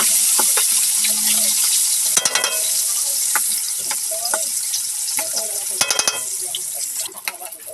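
Milkfish (bangus) fries in hot, smoking oil in a pan with a loud, continuous sizzle and spatter, with scattered clicks and scrapes of a utensil and a few faint knocks.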